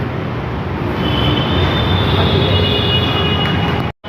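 A loud, steady rumble of a metro train moving through a station, with a high metallic whine from the wheels, cutting off abruptly near the end.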